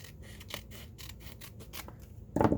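Scissors snipping paper for Bible journaling, a series of close, crisp cuts in a quick uneven rhythm with a louder rustle at the end.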